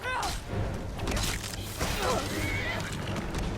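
A horse in the video game Skyrim whinnies repeatedly amid clashing game effects and rumbling, close and loud, with a voice speaking over it.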